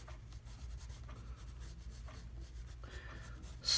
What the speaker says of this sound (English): Using the pen and ink and the paper.